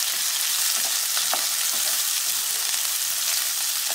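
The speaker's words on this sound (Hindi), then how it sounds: "लगातार चलाते हुए प्याज को भून लूंगी," Sliced onions frying in hot oil with cumin, a steady close sizzle with light scraping as they are stirred in the pan, no voices.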